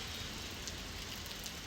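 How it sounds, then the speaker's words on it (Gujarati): Heavy rain pours down in Surat, a steady, even hiss of falling water with faint scattered droplet patter throughout. "વરસાદ વરસી રહ્યો છે"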